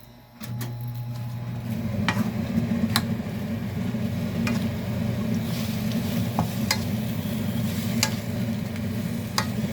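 Shredded radish stir-frying in a pan with perilla oil for a Korean holiday namul side dish, a steady close sizzle running throughout with occasional sharp clicks of a utensil against the pan.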